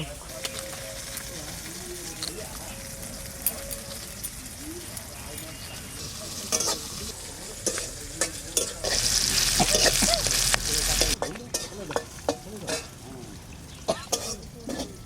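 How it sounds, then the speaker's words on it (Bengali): Potatoes with salt and turmeric fry in a pan, giving a steady sizzle with bursts of stirring and clatter from utensils, louder in the middle stretch, with a voice speaking now and then. "হলুদ, হালকা ভেজে নেব।"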